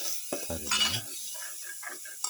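A beetroot and lamb liver stew with pepper being mixed in a pot, a spoon scraping and knocking against the pot with a soft bubbling sizzle, a few brief stirring strokes close by.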